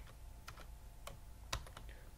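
Keys tapped on a computer keyboard while entering an Excel formula, a handful of quiet, separate clicks spaced unevenly over a couple of seconds in a quiet room.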